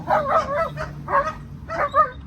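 Several sharp, close dog barks and yips from a dog at a guard-dog training session, coming in short bursts of two or three with brief pauses between.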